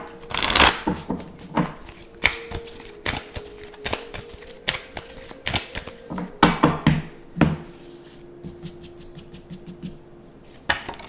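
A Halloween tarot deck shuffled by hand, with sharp clustered snaps and riffles in uneven bursts, loud and close, with brief quiet gaps between shuffles.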